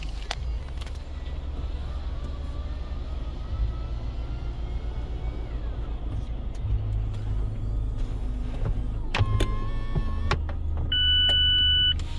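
Convertible soft top of a red 2020 Mazda MX-5 Miata being raised: a steady low electric motor whine and hum running for several seconds, with a few mechanical clicks and a latching clunk near the end, fairly close.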